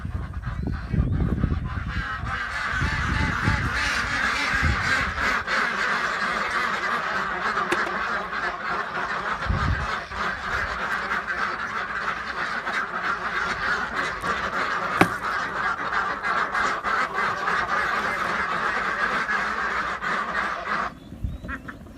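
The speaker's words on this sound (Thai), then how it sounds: "เสียงเป็ดร้องดังมาก" Dense, loud quacking and honking from a large flock of farm ducks, continuous throughout with some splashing.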